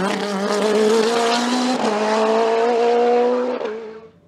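A race car climbs a hill-climb course, its engine screaming loud and close with steady high revs, one brief shift dip midway, then fading quickly as it passes.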